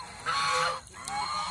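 Domestic geese honk nearby, a drawn-out nasal call followed after a short pause by another, fairly close over a steady background.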